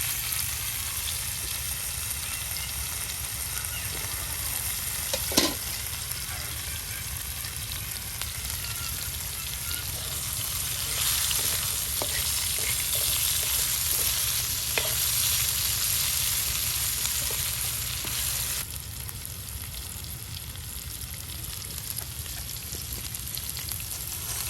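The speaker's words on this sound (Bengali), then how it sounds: "আলুগুলো ভেজে নেওয়া হবে।" Sliced potatoes frying in hot oil in a village kitchen, a continuous close sizzle with occasional sharper crackles and stirring scrapes, steady throughout.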